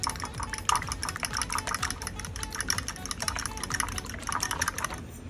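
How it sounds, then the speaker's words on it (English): Eggs whisked in a bowl for shrimp fried rice, a steady rapid clicking and tapping of a whisk against the bowl, close and continuous with even rhythm throughout. "here I have my eggs. We're just going to whisk until it's nice and fluffy."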